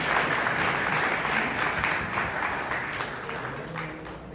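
An audience applauds at a literary honoring ceremony, dense and loud clapping filling the hall steadily for over four seconds, gradually easing toward the end.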